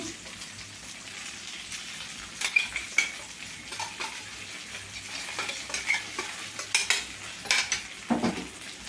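Stuffed eggplant fry sizzling in a pan as chili spice powder is added and stirred, with steady frying hiss and intermittent scraping and clinking of a utensil against the pan, close and moderately loud.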